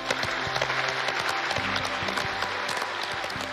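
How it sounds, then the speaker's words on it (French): Amateur cooking-competition contestants applaud together, a loud, dense, continuous wash of clapping that holds steady throughout, with some music faintly underneath. "les candidats qui applaudissent et tout"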